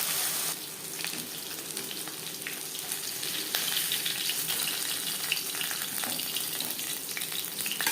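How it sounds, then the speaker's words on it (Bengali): Sarputi fish frying in hot oil give off a steady, dense sizzle that runs loud and unbroken throughout, with faint crackles and the odd stir mixed in. "প্রথম ব্যাচে মাছ ভাজা হয়ে গেছে একটা পাত্রে উঠিয়ে নেব"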